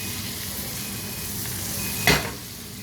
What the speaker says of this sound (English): you want the butter to actually cook the steak now